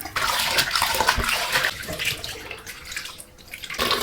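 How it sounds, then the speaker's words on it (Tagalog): Water runs steadily from a tap and splashes as chicken giblets are rinsed under it, with brief pauses in the flow. "Tapos huhugasan natin ito hanggang maging clear yung tubig."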